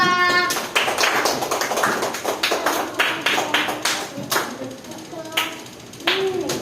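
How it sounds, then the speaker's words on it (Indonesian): A second-grade class of children claps in a classroom, producing sharp, uneven claps that build into a scattered burst, while voices speak over the clapping. "tepuk tangan untuk kelas 2"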